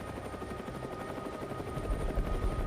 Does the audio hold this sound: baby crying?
no